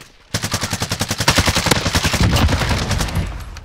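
Rapid automatic gunfire in Warzone, a loud, close burst of evenly spaced shots rattling continuously for several seconds before trailing off, with no talk over it.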